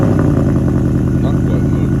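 A 2021 Ford Mustang Mach 1 V8 idles on a cold start, a loud, steady low rumble with a dense, even pulse and no pause.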